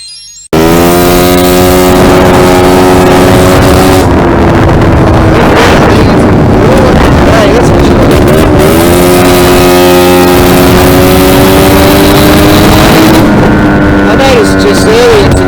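A very loud engine from the rig on the road roars close to the mic, a sustained throbbing drone with rising and falling pitch and heavy wind buffeting, starting abruptly after a brief quiet moment.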